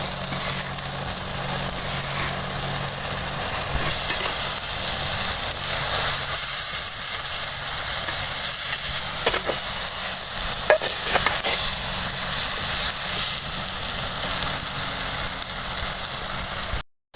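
Coconut pieces, coriander and mukkuzhukkai greens sauté in a pan, a constant loud sizzle and steamy hiss with scattered spatula scrapes and clicks.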